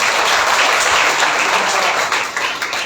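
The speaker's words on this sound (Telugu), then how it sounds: "ఇక చప్పట్లు పెట్టి దేవుని మాట్లాడాలి." A crowd at a pastors' meeting in Narsampet claps and applauds steadily for a few seconds, loud and dense, thinning slightly toward the end.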